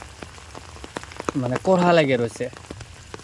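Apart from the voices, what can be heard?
rain falling on cattle in a village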